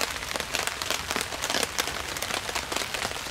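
Rain falling steadily outdoors at a bushcraft camp, a dense, continuous patter of drops hitting surfaces, loud and close, with no voices.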